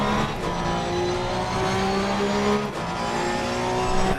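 Race car engine in Assetto Corsa Evo held on the rev limiter in sixth gear, a steady loud high-pitched drone with bouncing harmonics throughout, no talk.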